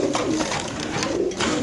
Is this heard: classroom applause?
no